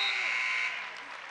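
A loud, sustained electronic buzzer ends a high school wrestling match in a gym, holding steady then fading out under crowd noise and commentary.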